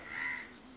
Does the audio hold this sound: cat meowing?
no